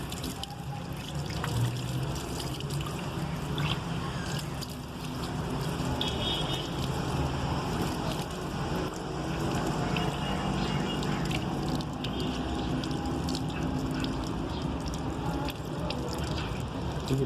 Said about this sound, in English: wash with water